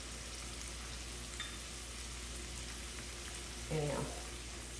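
Vidalia onions sauté in a pan with a steady, faint sizzle, a brief louder crackle near the end, and someone speaking briefly over it.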